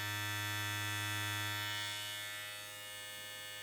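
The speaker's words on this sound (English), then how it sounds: "this is a rather quiet trimmer as well" BaByliss Black Chrome hair clipper running close to the microphone, a steady, even electric buzz with a strong low hum that holds for several seconds and eases slightly in loudness, no voices over it.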